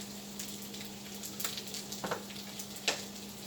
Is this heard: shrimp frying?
yes